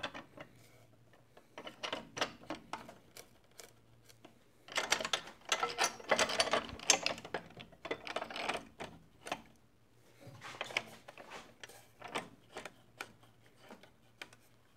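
Mechanism on a woodworking jig, the Little Ripper, being tightened to hold a short hickory board, giving a run of close, quick mechanical clicks and ratcheting bursts in irregular clusters over a faint low hum, with no talk.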